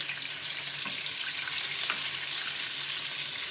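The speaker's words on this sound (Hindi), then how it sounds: "इसमें हम अपना प्याज का पेस्ट डालेंगे" Onion paste goes into boneless chicken frying in a pan for a turnip curry, giving a steady, loud, close sizzle with faint stirring scrapes throughout and no talking.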